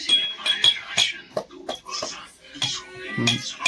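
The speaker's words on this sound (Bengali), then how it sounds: "এখানে আদাটাকে ভালো করে পেছানো হচ্ছে।" Ginger being crushed for village-style chicken biryani, heard as a series of sharp, close metallic clinks and knocks at an irregular pace, with a little talk in the background.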